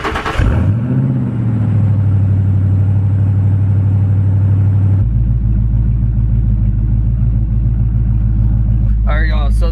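A Foxbody Mustang with a very loud exhaust cranks to life right beside the tailpipe, a harsh starter whir rising into a heavy, pulsing idle rumble, then dropping to a deeper, steady growl partway through, with a brief voice near the end.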